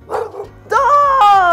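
A dog barking, one short bark followed by a longer yelping, whining call, close and fairly loud with nothing else heard.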